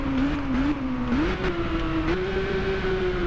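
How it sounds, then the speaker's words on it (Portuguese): Simulated Kawasaki Z800 motorcycle engine in the Ride racing game on PS4, a steady loud drone whose pitch drops and then rises again through a downshift, with no voices over it. "Olha a redução de marcha, mano."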